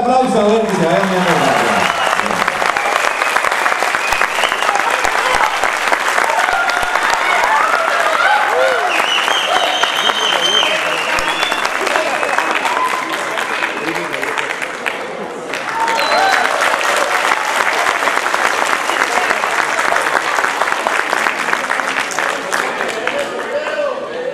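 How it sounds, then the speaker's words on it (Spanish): A crowd at a festival in Samacá, Mexico claps loudly and continuously for a folk performance, the dense applause holding steady with a short dip midway before swelling again. "Vamos con otro fuerte aplauso"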